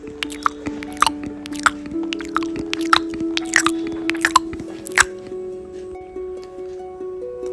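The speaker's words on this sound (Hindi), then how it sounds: "उसके चबाने की आवाज आ रही थी।" Wet, squishy chewing and gnawing, like an animal crunching on a bone, with irregular clicks and snaps over a steady low hum, close and moderately loud with no talk.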